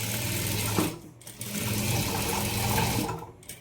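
Sewing machine stitching fabric seams on a cloth craft of betel and banana leaf shapes, a continuous whirring run that briefly stops twice, close and moderately loud.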